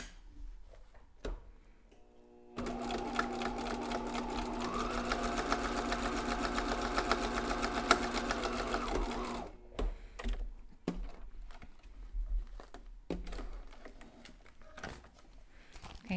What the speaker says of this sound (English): And you can sew all the way across here to hold that pipe cleaner in place.